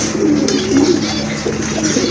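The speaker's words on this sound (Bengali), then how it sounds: "দেখেন খুবই সুন্দর এক জোড়া রাজগোল্লা কবুতর" A pair of Rajgolla pigeons coos in low, throaty rolls that run on steadily, close by, over a constant noisy background.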